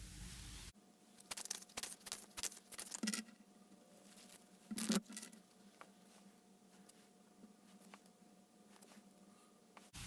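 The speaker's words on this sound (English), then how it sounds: "So I'm going to shuffle some cards so we can get some more insight." Tarot cards shuffled by hand, soft irregular papery patters and riffles in quick bursts, close and quiet, with pauses between.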